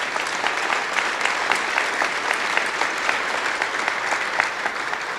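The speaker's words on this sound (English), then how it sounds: "So, quick round of applause for all of you and for everybody that brought this program together." An audience at the opening of the UW Health Eastpark Medical Center applauds steadily, with a dense, even wash of many hands clapping throughout and no voices standing out.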